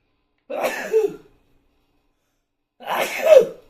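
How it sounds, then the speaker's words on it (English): Two separate sneezes from one person a couple of seconds apart, each a short breathy burst followed by a quiet gap, close to the microphone with no talking. "So I'm going to sneeze multiple times tonight."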